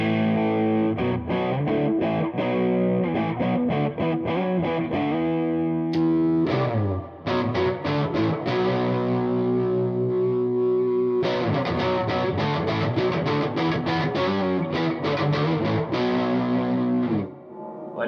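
An electric guitar plays chords and riffs through the distortion channel of a Yamaha G100 amplifier, a loud, gritty tone with sustained notes and brief pauses, no talking.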